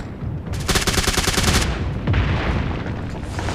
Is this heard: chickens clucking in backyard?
no